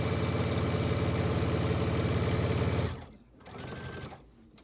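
A sewing machine stitches along the edge of a washcloth with a steady, loud, close whir for about three seconds, then stops and gives a shorter, softer burst after a pause.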